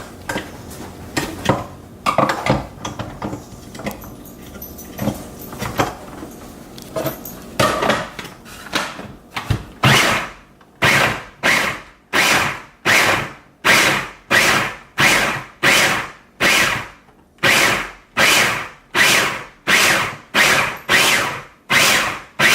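A food processor mincing meat runs in short, loud pulses, roughly a dozen evenly spaced bursts with brief silences between, after some quieter clattering and handling at the start.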